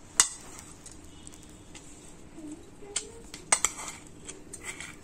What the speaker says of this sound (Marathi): मी आता हे सगळं गुळ घालून घेते